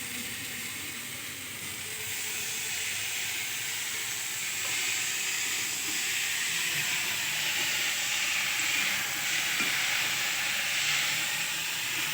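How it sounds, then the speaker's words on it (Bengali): Papad being deep-fried in a pan gives a steady, broad hiss and sizzle that runs the whole time at an even, moderate level, with no talking. "ভাজা হচ্ছে।"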